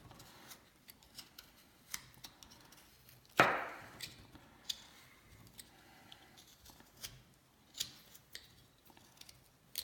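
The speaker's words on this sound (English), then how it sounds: "you can hear that end of that handle clicking on the table" Soft irregular clicks and ticks as a wooden knife handle knocks against a tabletop during hand-carving of a wooden Scout cowboy bolo tie with only a knife. One sharper, louder knock stands out among the faint scattered taps.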